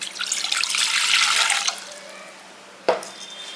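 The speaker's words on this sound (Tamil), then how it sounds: "வச்சு தண்ணி வந்து ஒரு 2 கப் அளவு விடுங்க." Water runs from a tap into a cooking pot for about a second and a half, then stops, followed by a single sharp clank near the end.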